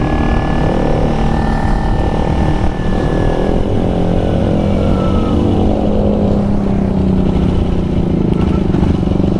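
A 2009 Kawasaki Ninja 250R Limited Edition parallel-twin engine drones steadily under riding, loud and close with wind rush and shifting pitch as it cruises, with no talk over it.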